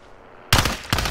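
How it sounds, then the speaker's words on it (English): Gunfire in a video game helicopter scene bursts in abruptly after near silence, a loud sustained volley with a second burst close behind. "Who's shooting?"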